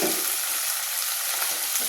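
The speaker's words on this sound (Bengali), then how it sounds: "একটু হালকা হালকা ভাজা হবে।" Onion, garlic and green chili frying with chickpeas and mutton fat, giving a dense, continuous close-up sizzle that holds steady throughout.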